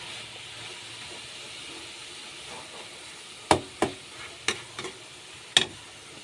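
Grated coconut fries quietly in a pan with a soft steady sizzle, broken by several distinct knocks and scrapes of a utensil stirring against the pan.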